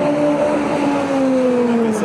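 Nissan 370Z Nismo race car passing at the Spa circuit, its engine note a steady droning tone that slowly falls in pitch as it goes by, loud and continuous over two seconds with no voices.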